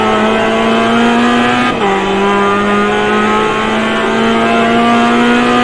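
A GMX5 race car in iRacing at Summit Point holds a loud, steady engine drone, dipping briefly as the driver eases off, then climbing smoothly in pitch as the throttle rolls back on.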